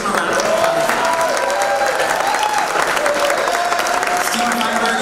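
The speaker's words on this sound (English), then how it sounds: "let's give him a round of applause" A crowd at a Providence red carpet event gives a round of applause for a filmmaker, dense continuous clapping with some cheering and faint voices mixed in, steady and fairly loud for the whole stretch.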